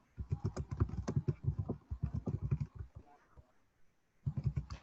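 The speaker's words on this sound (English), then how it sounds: "as I'm typing" Fingers type steadily on a computer keyboard during a Zoom meeting, rapid close clicking in bursts with a short pause before typing resumes.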